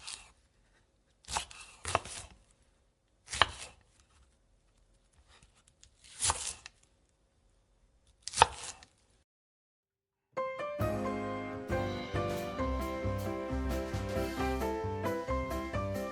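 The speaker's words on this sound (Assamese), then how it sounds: "লগতে পিঁয়াজ এটা আৰু আলু এটাও কাটি লৈছোঁ।" Five separate bursts of a knife cutting onion and potato, spaced a second or two apart with quiet gaps between, before loud music takes over for the last third.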